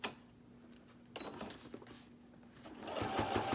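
Sewing machine stitching white Velcro onto a bottle and can koozie with white thread, running slowly in short intermittent runs with clicks and pauses, growing steadier toward the end.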